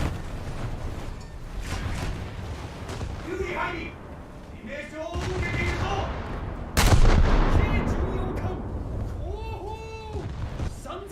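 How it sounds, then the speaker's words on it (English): Heavy naval guns in a warship video game boom repeatedly, with one especially loud blast midway, while someone talks over the battle sounds and game audio. "I've already been firing at the Helena for quite a while."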